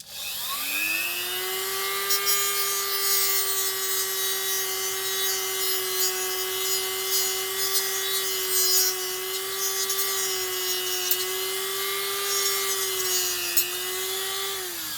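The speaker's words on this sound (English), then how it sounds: "I just need to trim a little bit of this plastic away, just to allow my chip to fit in there" Plastic being trimmed inside a Scalextric McLaren slot car body with a tool that gives a steady, sustained high whine, running continuously and fairly close for the whole stretch with no talking.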